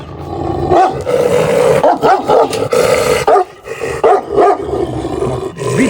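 Dogs fighting, with loud, close barking and rough growling in repeated bursts that rise and fall throughout.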